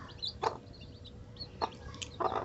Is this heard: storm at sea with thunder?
no